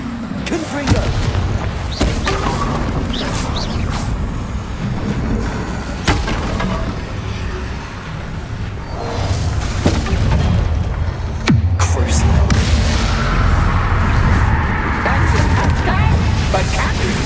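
Spell explosions from the Confringo curse in Hogwarts Legacy burst as loud, repeated booms and thuds through a dense, continuous game soundscape, with a voice talking over them.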